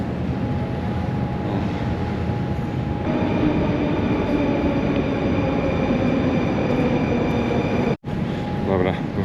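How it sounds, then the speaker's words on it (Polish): A Moscow metro train car rumbling past on the rails, a loud continuous roar with faint squealing tones, heard up close as a voice speaks over it. "jedzie teraz wagonik na środku"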